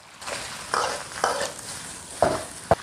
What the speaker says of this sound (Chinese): 剁椒炒香出色，下入这个紫姜还有青椒，